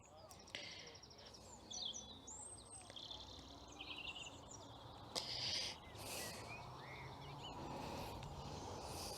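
Birds sing and chirp outside Muchelney Abbey in Somerset, with bright scattered calls over a steady outdoor background and some voices nearby.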